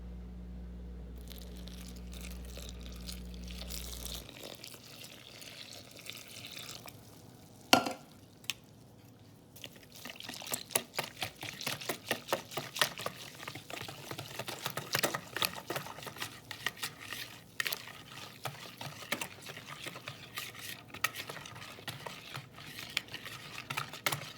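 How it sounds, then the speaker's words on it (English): Masa harina is whisked with water in a medium bowl, giving a rapid rustling, scraping patter of the whisk against the bowl that goes on steadily after a brief low hum at the start. "in a medium bowl, you want to whisk together the cup of the masa harina"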